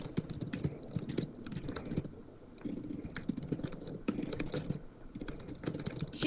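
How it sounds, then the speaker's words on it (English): Computer keyboard struck hard and fast in angry typing, dense clattering bursts of keystrokes with short pauses between flurries, close and fairly quiet. "She doing them anger typing. Punch that keyboard."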